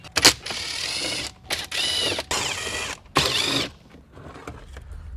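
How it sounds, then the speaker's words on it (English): A ratchet-type tool works loose the 7mm screws around the radio panel of a Chevy Camaro, sounding as a few close, bursty runs of clicking and creaking with short pauses in between. "you're going to have 7mm screws up and around the radio. Go ahead and remove those."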